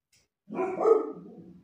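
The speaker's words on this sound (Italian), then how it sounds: "ha cominciato ad abbaiare" A dog lets out a single short, fairly close bark that trails off into a low rumble, alone in an otherwise quiet indoor room.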